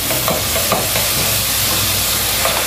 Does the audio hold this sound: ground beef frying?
yes